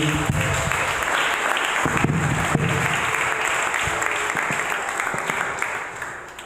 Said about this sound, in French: donnons des acclamations à Dieu